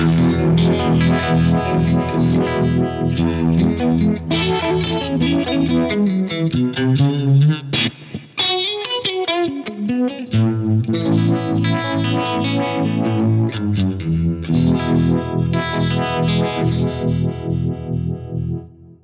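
Distorted electric guitar through an Axe-Fx III FAS vibe modulation effect, chords swirling continuously in a lush pulse, briefly thinning to a sparser phrase midway before the full sound returns.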